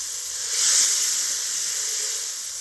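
A grass-fed ribeye steak sears on a hot griddle, giving a steady, close sizzling hiss that swells slightly partway through and then holds level, with no talking.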